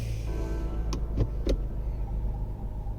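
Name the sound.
Range Rover engine starting and running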